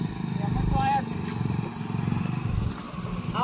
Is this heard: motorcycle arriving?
yes